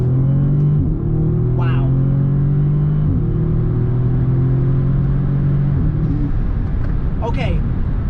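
An Audi S3 with a DSG transmission tune, in manual mode in second gear, accelerating hard on a highway, its engine note climbing in rising sweeps through gear changes, heard from inside the car while a voice exclaims briefly.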